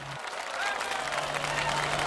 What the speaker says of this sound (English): Give a round of applause for Mr.